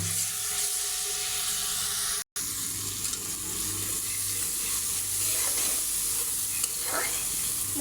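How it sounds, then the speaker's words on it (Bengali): Spice masala stirred and fried in a pan: a constant dense sizzle with watery bubbling undertones, a brief dropout to silence, then continued frying with light stirring. "এখন মশলাটা ভালো করে নেড়ে ছেড়ে কষিয়ে নেব।"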